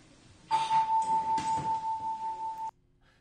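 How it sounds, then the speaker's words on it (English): A doorbell chimes with a rapid, pulsing electronic ring lasting about two seconds, fairly clear and close, then cuts off into quiet. "when I have my son ring the doorbell"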